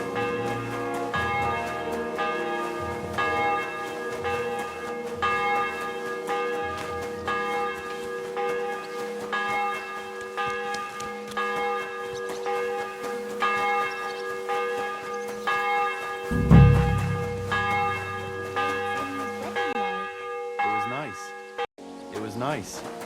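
Church bells in the video game Kingdom Come: Deliverance II ring steadily in layered, overlapping peals with a sustained metallic shimmer, joined by a brief low thump near the end.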